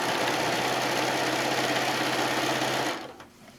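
Sewing machine stitching steadily through a quilt, a fast continuous mechanical whir with a rapid needle rhythm, close and loud, then stopping abruptly near the end.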